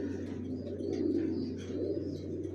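Original racer pigeons coo steadily nearby, a continuous layered murmur of several birds over a low constant hum, without speech.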